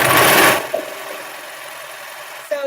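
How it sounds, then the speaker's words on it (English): A serger (overlock machine) finishing the edges of linen fabric runs in a loud, dense burst for about half a second, then stops, leaving a quiet room with a few faint clicks. "the only reason why I'm serging it is because I'm trying to make sure I keep this linen intact so it doesn't unravel on the inside"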